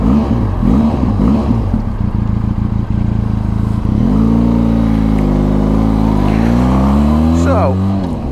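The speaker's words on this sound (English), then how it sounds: "that exhaust does give a really nice little note actually." A Benelli TRK 502 X adventure motorcycle's exhaust note, the engine rising and falling through several revs with gear-like pitch sweeps, loud and close, with wind rush around it.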